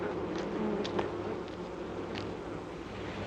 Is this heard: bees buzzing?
yes